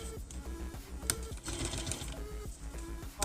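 A domestic sewing machine runs steadily, stitching forward and then in reverse, with a continuous mechanical whir and rapid needle clatter, close and alone.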